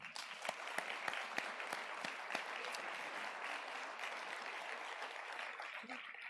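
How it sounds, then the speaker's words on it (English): A student awards ceremony audience applauds the Law Enforcement Club. Crisp individual claps stand out at first, then blend into an even, moderately distant wash of clapping that continues without a break. "Please give me a round of applause for the Law Enforcement Club again."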